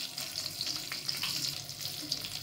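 A pinch of asafoetida dropped into a hot pan already holding cumin seeds and bay leaf, producing a continuous close sizzle with quick crackling spits, steady throughout and with no voice.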